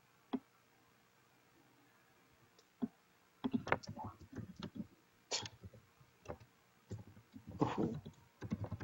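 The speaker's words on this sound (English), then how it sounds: "I'm kind of generally curious of what you're typing there, Sunny Boy." Quick clicking keystrokes on a computer keyboard, arriving in short irregular bursts between pauses, with a voice talking over parts of it.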